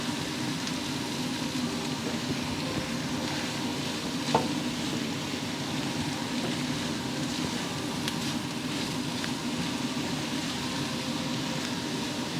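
Roasted peanuts and chickpea flour stirred in a hot pan, giving a steady, continuous dry scraping and sizzling hiss with no pauses, close and moderately loud, with no voices.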